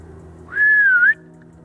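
A person whistles once to call a dog, a single clear rising-and-falling note of about half a second, loud and close over a quiet background.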